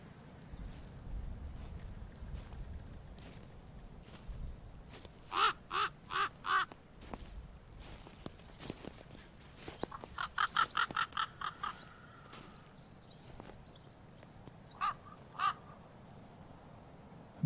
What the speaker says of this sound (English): Many of you have likely heard that call before of the raven